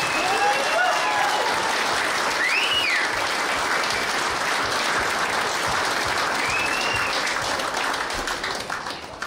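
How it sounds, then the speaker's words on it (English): Sustained, loud applause fills the room at the opening ceremony of the Australian Blackball National Championships, with dense clapping and a few whistles rising above the steady crowd noise. "One big round of applause, please, for all the states."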